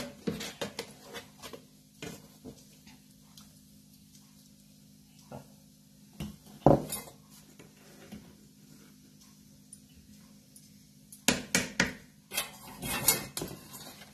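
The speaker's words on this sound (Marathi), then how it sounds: "पीठ चांगलं हलवायचं." Quiet scraping and stirring of idli batter in a pot, mostly soft with a few louder clinks of a utensil against the rim, close up and without speech.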